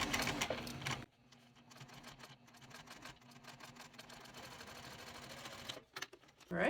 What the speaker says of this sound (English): Now I'm going to go to the machine, and from the right side, I'm going to stitch 1/8 seam allowance